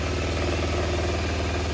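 A Yanmar diesel engine swapped into a vehicle idles steadily up close on its first run, a low, even rumble with a rapid pulsing beat.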